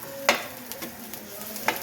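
Onions and garlic stirred in a pan while cooking milkfish sarciado, with a few sharp utensil scrapes and clinks over a faint, light sizzle, heard close up and without talk.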